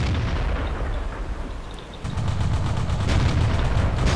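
Cannon fire from an autoloader tank in World of Tanks, a dense rumbling barrage with a heavier burst midway, loud and continuous, with no talk.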